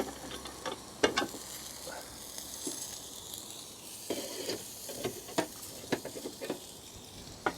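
Rump steak sizzling in a wood-fired Ooni Fyra pizza oven, a quiet steady hiss broken by scattered sharp crackles and pops.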